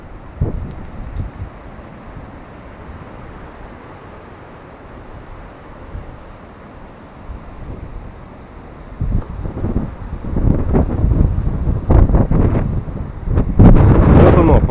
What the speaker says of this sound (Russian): сейчас ветер сильный будет дуть, и, наверное, меня не слышно будет